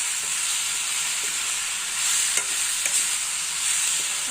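Tomatoes and tamarind frying in a pan for vankaya tomato pachadi, a steady close sizzle with faint scrapes and soft clicks of stirring.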